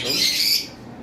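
A single harsh, high-pitched squawk from a lovebird, close and loud, fading out after about half a second.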